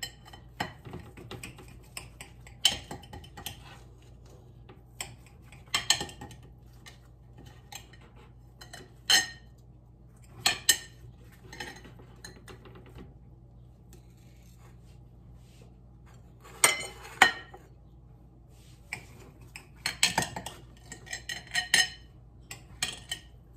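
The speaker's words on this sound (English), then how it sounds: "Let me cut a couple pieces here." A knife cuts pieces of a crustless turkey sausage quiche on a plate, making scattered sharp clinks and taps of metal against the dish at irregular intervals, fairly close and quiet between strikes.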